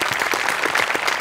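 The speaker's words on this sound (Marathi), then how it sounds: "त्यांच्यासाठी एकदा जोरदार टाळ्या" Audience applause on a Marathi comedy show set, a steady wash of many hands clapping that fills the short moment, loud and even throughout with no talk.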